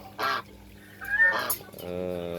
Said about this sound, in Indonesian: Ini kita review dari angsa kita sang para penjaga kandang atau satpam kandang